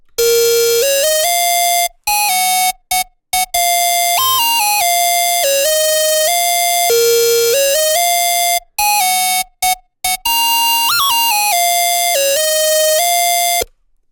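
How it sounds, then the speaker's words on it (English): Bright, piercing Serum lead synth preset V-Lone from Florence's Noise bank plays a loud stepping melody with heavy high end, broken by short gaps of silence, alone with no talking. "Adds a crazy amount of high end to it, like it's almost piercing your ears"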